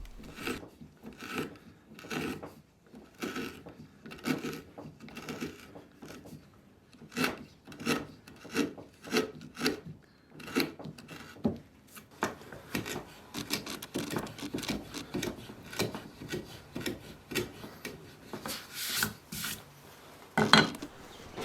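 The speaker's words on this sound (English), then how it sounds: "I could run a sharp chisel across the end grain here" Repeated rasping scrapes of a sharp chisel paring wood end grain, short strokes in an uneven rhythm, close and fairly quiet with no talking.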